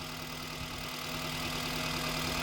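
The engine of a 24-model Maruti Zen idles close up in a smooth, constant drone with a faint regular ticking, alone without any talk.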